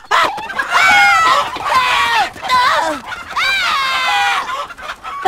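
Chickens cluck and squawk loudly and close by in a rapid series of calls, a rooster-like crow rising among them, with brief gaps between bursts.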